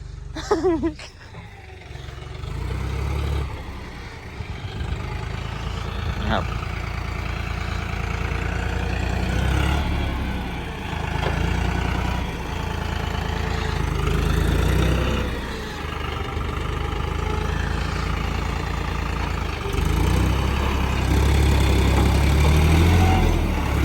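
A John Deere 5040D tractor engine idles with a steady low diesel rumble, its loudness rising and falling a little as it runs, while people talk nearby.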